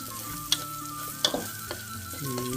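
Garlic and galangal frying in oil for a panang curry, a continuous close sizzle with a few sharp ticks and stirring clinks, no voices over it.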